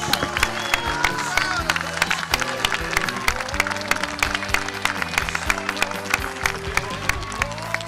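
A large crowd at a public gathering applauds with dense, steady clapping that lasts throughout, with voices and cheers mixed in.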